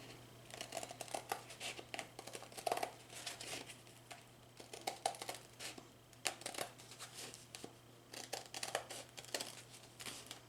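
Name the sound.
scissors cutting felt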